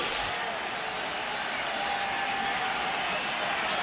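A football stadium crowd at a 2004 NFL game roars steadily, a dense, constant wash of crowd noise with no distinct breaks.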